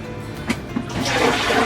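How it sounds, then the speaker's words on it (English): A toilet flushes during repair of a leaking toilet, a couple of soft knocks from the handle leading into a steady rushing of water that fills the cistern and bowl, close and clear with no talk. "Flush the toilet."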